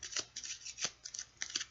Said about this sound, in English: So okay, one more shuffle.